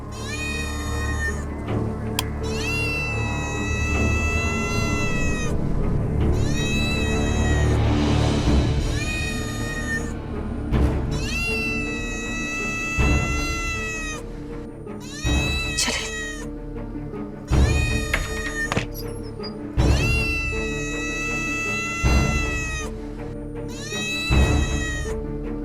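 A cat meows loudly again and again, long drawn-out wails close by, with short gaps between each cry.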